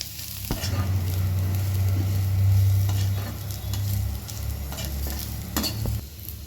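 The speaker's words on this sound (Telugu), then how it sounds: "ఇంకొంచెం వేగాలండి." Ridge gourd peels fry in a pan with a steady sizzle while a spatula scrapes and stirs them in periodic strokes, close and continuous.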